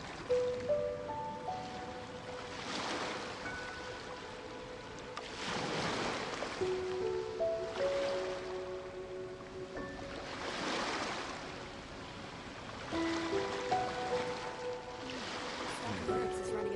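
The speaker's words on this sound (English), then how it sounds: "waves are as calm as always" Calm ocean waves in Genshin Impact wash in slow, regular swells, each surge rising and fading every few seconds over a steady watery hiss, with soft game music tones layered underneath.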